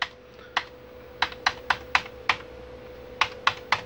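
Keys on a restored Commodore VIC-20 keyboard are pressed during a test, giving a dozen or so crisp, separate clacks in an uneven rhythm, close and alone over a faint steady hum.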